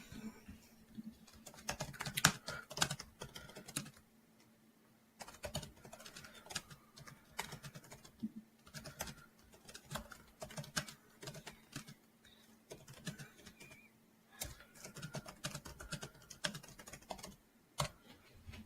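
Someone typing a note on a computer keyboard, steady bursts of soft key clicks with short pauses between runs, close and fairly quiet, with no talk.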